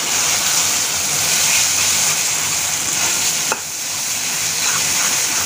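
Dried sidol shutki fish stirred and fried in a pan, giving a steady, close sizzle with a broadband hiss throughout and a brief scrape partway through, with no voices.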